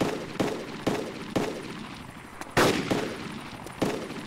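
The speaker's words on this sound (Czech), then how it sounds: "Už střílí po sobě" Gunfire in the PC video game DayZ Mod: a series of sharp shots at irregular intervals, with one louder, heavier blast near the middle, over a constant noisy background and with no talk.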